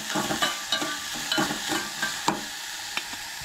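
Okra (bhindi) with masala is stirred and sautéed in a pan, giving steady, rhythmic scraping strokes over a continuous close sizzle, with no voices.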